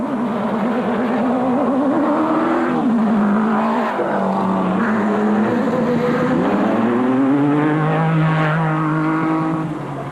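Rally cars at the Mafikeng 400 in Botswana pull away from the start line one after another, engines revving loudly and rising through the gears, with harsh, continuous engine noise and no talk.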